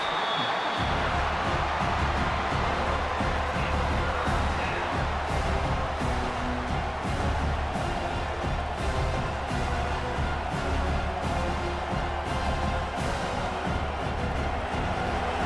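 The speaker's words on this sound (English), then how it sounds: "Decibels rising as the crowd gets behind this defense on 3rd down." A football stadium crowd roars steadily and loudly as the defense lines up on third down, a dense, sustained wall of cheering with no breaks.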